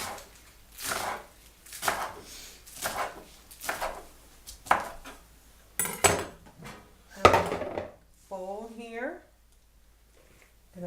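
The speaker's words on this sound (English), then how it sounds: "I want to go ahead and slice the whole thing" A knife slicing food on a cutting board in a home kitchen, a series of soft rhythmic cuts mixed with faint clatter, under a person talking throughout.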